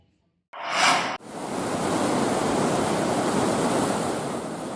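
High waves hit the coast at Merauke, a loud, continuous broadband roar of surf that follows a short burst of noise and holds steady to the end, with no voices.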